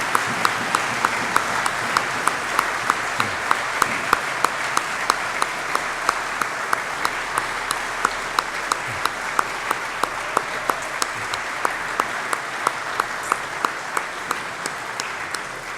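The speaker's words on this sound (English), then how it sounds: "give a big round of applause for all those people" A school assembly crowd claps in long, steady applause that holds at an even level throughout, with a faint regular ticking running underneath.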